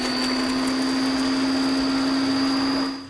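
A countertop cooking machine chopping green chilies runs as one loud, steady motor whir with a constant high whine, close up and alone, winding down at the very end.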